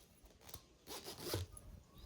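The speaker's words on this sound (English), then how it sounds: "I'll be opening it through the zipper" A clothing zipper on a sewn bodice being pulled open in a few short rasping bursts, close and fairly quiet, with no voices.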